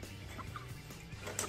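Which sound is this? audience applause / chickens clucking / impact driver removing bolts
chickens clucking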